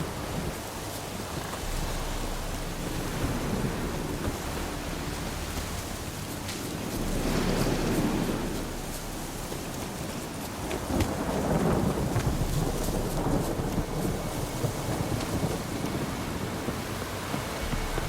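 Thunderstorm in The Witcher 3 with steady rain hissing throughout and two deep rolling thunder rumbles swelling up, one around the middle and another shortly after, close and loud, with no voices.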